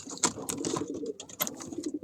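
Pigeons in a loft, including carrier pigeons, give soft, close murmuring coos with a few brighter chirps, and no talk is heard.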